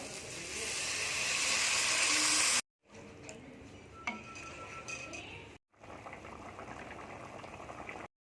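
Water poured into a pan of egg and potato curry, a rising rushing hiss for a couple of seconds that gives way to bubbling and simmering, with a faint clink of a utensil and no talk.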